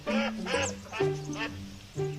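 A voice imitates a duck, making a run of nasal quacks in uneven bursts, close and clear.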